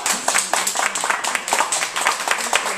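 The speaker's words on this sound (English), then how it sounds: "So let's give these three volunteers a nice big round of" Audience applause at a mathemagician's magic show, clapping for three volunteers brought on stage; steady, dense claps fill the whole stretch at moderate loudness with a few voices mixed in.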